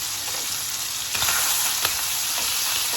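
Bacon frying in a pan, a steady close hiss and crackle of sizzling fat that stays loud and continuous, with a few sharper pops, no talking.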